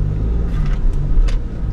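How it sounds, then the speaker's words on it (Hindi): An MG Gloster Black Storm SUV drives over an off-road obstacle, its engine giving a low, steady, close rumble, with a few brief rustling and knocking bursts over the top. "इस ऑब्स्टेकल को तो MG Gloster ने पार कर लिया है।"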